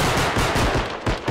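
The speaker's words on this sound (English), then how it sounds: "My pistol ran out of bullets very fast" Gunfire in a bodycam-style shooter game, a fast flurry of heavy, closely spaced shots, loud and near, running the whole moment with no speech over it.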